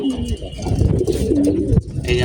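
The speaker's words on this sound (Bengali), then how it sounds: "এই হচ্ছে আমার নর কবুতরগুলা।" Several male pigeons cooing nearby in a dense, overlapping rolling murmur, loud and continuous across the short stretch, with a voice briefly audible beneath.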